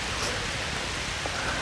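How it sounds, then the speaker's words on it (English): Rain suddenly falling at Savica Waterfall in Slovenia, a steady dense hiss of drops on surfaces, close and even throughout the short stretch. "but now it started to rain suddenly."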